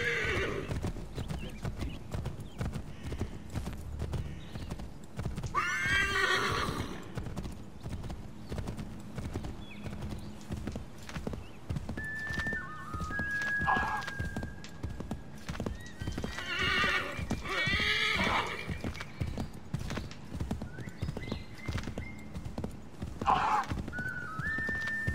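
In Assassin's Creed III, a horse gallops with continuous clip-clop hoofbeats and lets out several loud whinnies over quiet game ambience.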